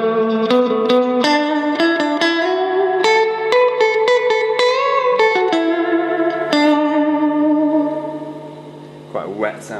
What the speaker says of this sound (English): Quite a wet sounding reverb there.